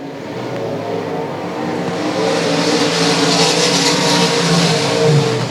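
Race cars roar around South Texas Speedway, a loud, sustained engine drone that builds steadily as the pack sweeps past, with no talk over it.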